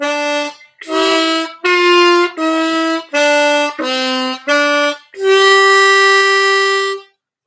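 Harmonica melody played up an octave by blowing hole 3: a run of six or seven short, clear reedy notes, then one long sustained note, close and loud with no talking.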